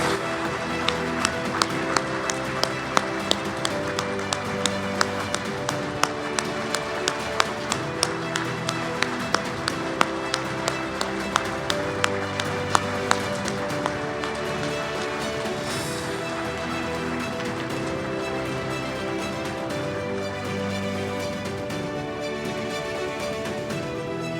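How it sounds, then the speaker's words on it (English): A Hall of Fame dinner crowd applauds in a long, sustained round of clapping that fills a banquet room, with distinct individual claps popping out above the dense wash before it gradually thins. "Please welcome him with your applause."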